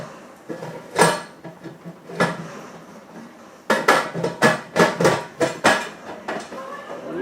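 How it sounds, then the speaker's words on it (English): A metal pressure canner lid is set on and locked for canning kielbasa, giving a quick run of close, sharp metallic clanks and clatters, sparse at first and then dense and rhythmic. "we're going to put our lid on"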